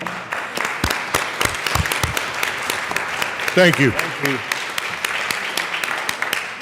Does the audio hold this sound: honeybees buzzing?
no